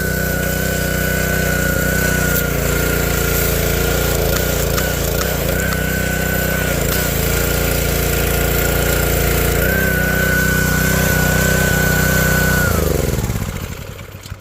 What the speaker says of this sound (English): then we'll give it a test shot and make sure it works.